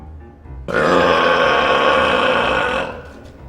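One long, loud burp rumbles for about two seconds, rough and sustained, then cuts off into quiet.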